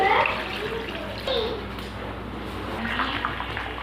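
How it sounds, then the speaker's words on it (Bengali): Water poured into a pot of browned meat and potatoes, a splashing gush loudest at first that settles into a steady running pour, with a faint voice briefly in the background. "এবার আমি জল দিয়ে দেবো।"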